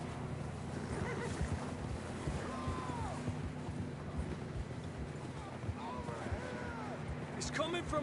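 Horses in Red Dead Redemption 2 whinny a few times amid steady hoof clops and a wash of background ambience, while characters talk over it.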